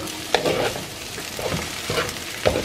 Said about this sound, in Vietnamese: Bỏ cơm vô là mình cứ xào thôi.